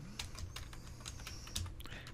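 Close, quiet typing on a computer keyboard while entering CSS code, a steady patter of key taps with a few heavier strokes.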